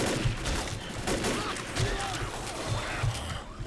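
Gunfire from a co-op zombie-horde shootout in Left 4 Dead: dense, rapid bursts of shots at steady volume with repeated thumping impacts throughout, while a voice murmurs faintly underneath.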